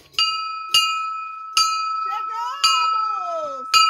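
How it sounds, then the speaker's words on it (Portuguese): A church bell at Nossa Senhora das Graças rings for lunch, five bright, sustained strikes at uneven intervals, each tone hanging in the air, with a sliding, whining tone drifting in between the strokes. "É o sino do almoço, é?"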